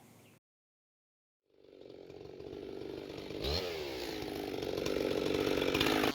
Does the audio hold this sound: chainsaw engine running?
yes